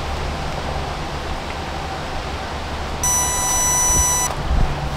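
A GPS dog collar's virtual fence alert sounds outdoors, a loud high electronic beeping tone that starts abruptly and holds for about a second over steady wind-like background noise, followed by a few soft thumps.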